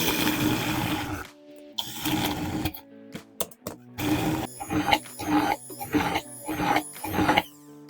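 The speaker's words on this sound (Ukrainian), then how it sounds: "а тепер перебиваю блендером" A blender motor whirs loudly and close by in several short bursts, blending sauce, stopping and restarting with a high mechanical whine.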